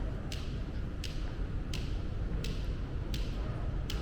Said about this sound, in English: So you hear the clicking noise?